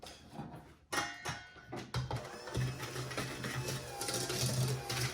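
An electric hand mixer beats red velvet cake batter in a bowl, a steady whirring motor hum running continuously and close for several seconds after a few brief clatters at the start.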